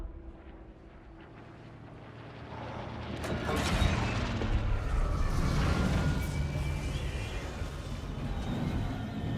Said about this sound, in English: What kind of a bomb is that?